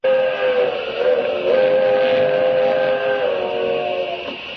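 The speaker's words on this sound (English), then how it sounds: "I've got to stop that train." A steam train passes with its whistle blowing in a 1940 Superman radio drama sound effect, a loud sustained multi-tone whistle over rumbling rail noise for several seconds, with no talk.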